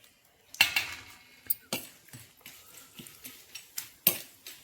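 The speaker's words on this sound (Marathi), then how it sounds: "ही आमची कढई, खास स्पेशल लोखंडी कढई आहे." A special iron kadhai is handled in a home kitchen, giving several sharp metallic clanks and scrapes, close and fairly loud, spaced irregularly with quieter clinks between them.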